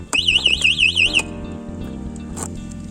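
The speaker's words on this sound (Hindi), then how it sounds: "ये अलार्म भी है, मतलब सेफ्टी अलार्म" A loud warbling electronic safety alarm siren on an EeVe Soul electric scooter sounds for about a second, rising and falling rapidly, then cuts off, leaving low mechanical hum.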